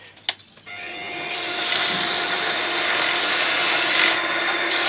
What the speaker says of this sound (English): then I stick it in the lathe and put a bit of sandpaper on it